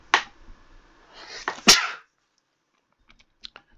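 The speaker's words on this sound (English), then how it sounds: "I'm gonna sneeze, hang on." A person sneezes once, close and sharp, with a short intake of breath before it, followed by a quiet room and a few soft clicks like keyboard taps.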